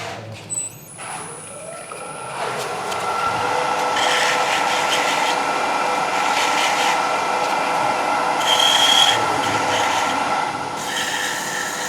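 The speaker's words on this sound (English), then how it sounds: "Be really careful now when you're sanding it" Steady abrasive rasping of sanding on wood, a continuous gritty scrubbing that swells and eases in strokes, close by.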